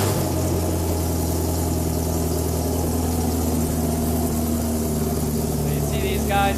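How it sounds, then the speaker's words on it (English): An LT4-powered SL-C car fires up from a push-button start and settles into a steady, close idle, a continuous low rumble with a brief higher sound near the end. "Hold the button in, and the car starts."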